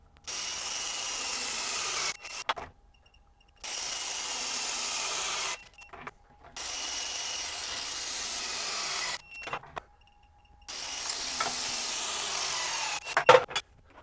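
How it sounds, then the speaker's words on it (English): A RIDGID subcompact cordless impact wrench breaks torqued bolts free in four long bursts of loud, rapid hammering, with short quiet gaps and small clanks between them. "we'll try to break them free using the RIDGID impact wrenches"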